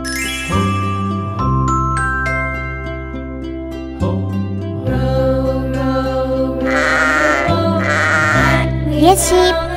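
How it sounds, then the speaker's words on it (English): Toy sheep bleating during doll play at home, a loud electronic bleat with bright chiming tones repeated in regular bursts, mostly alone with little else around it. "Yes, sheep."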